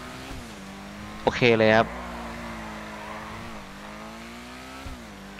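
A tuned Ocelot Lynx sports car in GTA V gives one short loud engine rev over a low steady idle, with someone talking briefly over it.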